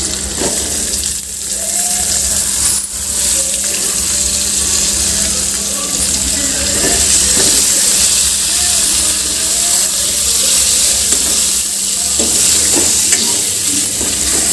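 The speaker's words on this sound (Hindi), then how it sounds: "ये देखो कितना अच्छा से भुंजा गई है, जल्दी से भुंजा देते।" Pointed gourd (parval) fries and is stirred in a kadhai, a steady close loud sizzle running throughout with occasional scraping stir strokes and no speech.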